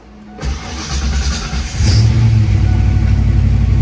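A boosted Ford Foxbody Mustang running cold on 15 lb of boost pulls away and revs, its engine note swelling louder and staying strong and close throughout.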